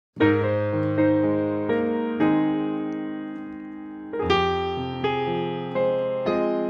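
A piano plays a series of full chords from the hymn Glory To His Name with both hands, each struck and left ringing as it fades, moving through a slow progression.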